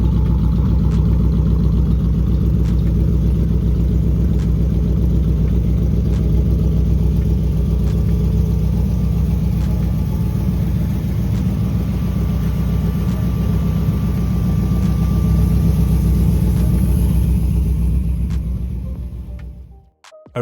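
A red 1937 Ford Tudor Slantback pro street hot rod, a heavily modified street machine, sits at a steady, deep idle close by. Its low rumble holds constant for about nineteen seconds before cutting off abruptly.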